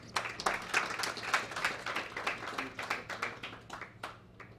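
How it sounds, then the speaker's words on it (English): Scattered applause from a small audience at a quick-fire presentation session, individual claps distinct and fading out toward the end. "Thanks, Danny, again. Round of applause."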